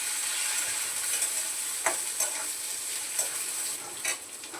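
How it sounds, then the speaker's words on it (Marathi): Sesame seeds splutter in hot oil while drumstick-pod amti is cooked, a steady close sizzle with a few sharp pops and crackles scattered through it. "तिळ उडतात गॅस बारीक करायचा आहे"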